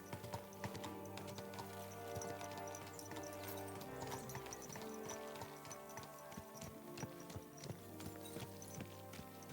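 Rhythmic clip-clop of horse hooves trotting steadily in the video game Kingdom Come: Deliverance II, layered over music and ambient game sound, with no voices present.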